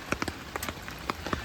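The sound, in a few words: rain falling on a tent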